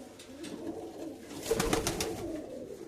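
Kirovograd pigeons cooing softly in a loft, a low murmuring coo rising briefly in the middle of a short, quiet stretch with faint background rustle.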